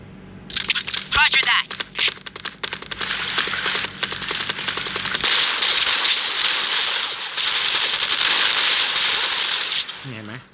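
Rapid crackling bursts and sharp pops of explosive arrow shots from the Yaka Arrow weapon in the mobile game CSPB fire in quick succession, followed by a sustained hissing burst, with a voice talking over parts.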